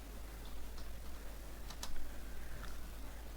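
Keys tapped on a computer keyboard while entering text in Adobe PageMaker, sparse, irregular clicks spread across a few seconds over a low steady hum, with a slightly louder cluster near the middle.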